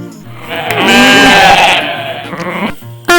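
A single goat gives a long, loud, wavering bleat up close, lasting about two seconds, then breaks off into a short quiet moment.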